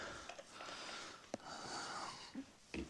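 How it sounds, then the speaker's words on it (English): A man breathes hard and wheezes while prying at a tire on a 1975 Ford 550 backhoe, close and fairly quiet, with a few sharp clanks and knocks of the tire tool. "It's already got me breathing hard."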